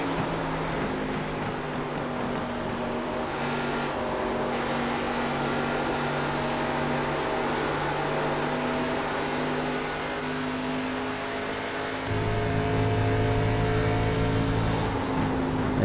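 Race cars at Kentucky in the iRacing video game, a continuous droning engine roar of several cars running together at steady pace, with a louder, deeper swell near the end as cars draw closer.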